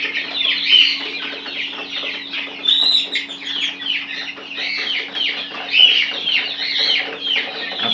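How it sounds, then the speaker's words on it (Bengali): Egyptian Fayoumi chickens eat feed and fresh grass on a farm, clucking and chattering in a continuous close flock with overlapping soft calls and occasional louder squawks, over a low steady hum. "মুরগিগুলো ফিড খাচ্ছে এবং আমরা আবার ঘাসও দিয়েছি খাবার খাওয়ার জন্য"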